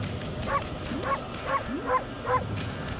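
A cartoonish dog in the video game Okami gives five short barks at a regular pace. Each yip has a rising, whine-like pitch, heard over a low ambient game background.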